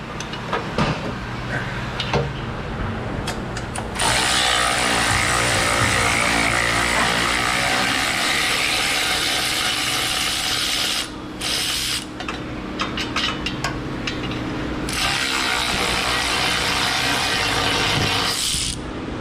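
An impact tool buzzes loose the bolts of a rust-free exhaust piece under a car during rear subframe removal, a loud sustained mechanical rattle broken by short pauses and metallic clanks.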